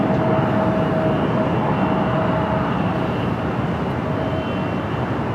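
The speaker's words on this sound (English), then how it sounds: "United 787 touching down on the south side on 25 left." A United Boeing 787 arriving from Tokyo Haneda touches down on runway 25 left at LAX, a loud continuous jet roar with a faint steady whine, unbroken and without voices.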